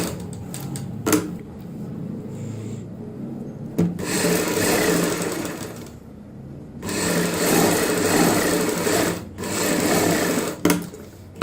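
Sewing machine running steadily as it stitches a strip onto sleeve fabric, close and fairly loud in several long bursts separated by short stops and clicks, with no talking.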